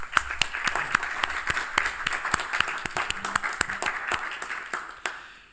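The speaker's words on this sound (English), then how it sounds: "I think there is also time to applaud for the laudatio" A modest group at a PhD defence ceremony claps after the laudatio, distinct individual hand claps in a lively rhythm that thins out and stops near the end.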